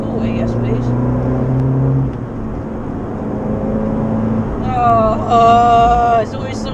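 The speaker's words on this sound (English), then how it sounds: "Second gear to 40, yes please." An Abarth car accelerating hard in second gear up to about 40, its engine droning steadily close by. The revs climb to a louder, rising note near the end, with voices faintly in the background.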